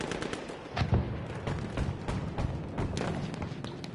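A limpet mine detonates against a tank in a competitive military shooter match, a heavy boom and thud amid a dense stretch of gunfire and explosions.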